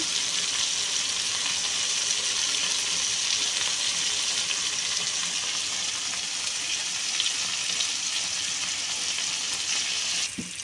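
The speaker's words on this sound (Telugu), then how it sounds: "పచ్చిమిరపకాయలు, టమాటా పండ్లు, ఎర్రగడ్డలు, కరివేపాకు అన్నీ వేసేస్తాను. బాగా కొంచెం ఫ్రై అవ్వాలి ఇవన్నీ" Green chillies, tomatoes, onions and curry leaves fry in hot oil, a steady, close, even sizzle that holds for the whole stretch with no talking.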